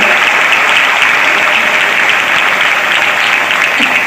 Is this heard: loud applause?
yes